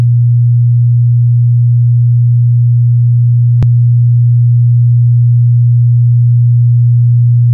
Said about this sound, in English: Let's see what it does with the two at 120 hertz.